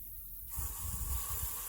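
A Chapin G362D hose-end sprayer applying liquid humic fertilizer bursts on after a brief pause, giving a steady close broadband hiss of spray with low rumbling water flow beneath, continuing alone to the end.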